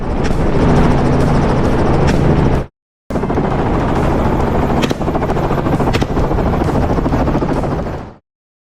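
A helicopter hunting wild boars in Texas roars close and loud with steady rotor chop, briefly cut off before resuming, with faint sharp cracks of gunfire mixed in.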